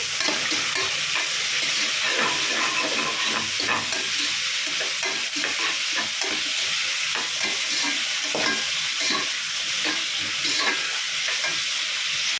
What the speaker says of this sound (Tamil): வெங்காயம் போட்டாச்சு வெங்காயம் நல்லா வதங்கட்டும்